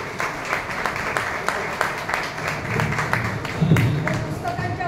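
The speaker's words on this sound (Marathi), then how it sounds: "जोरदार टाळ्या" An audience bursts into loud applause at an award ceremony, with sustained dense clapping for several seconds from a nearby crowd and some voices mixed in.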